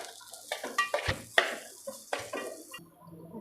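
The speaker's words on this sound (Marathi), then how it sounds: "मस्त असं आपण रव्यासोबत ह्याला पण मस्त परतून घेणार आहे" Dry fruits and semolina being stir-fried together in a pan for mango sheera, with a spoon scraping and clinking against the metal in irregular close strokes over a light sizzle.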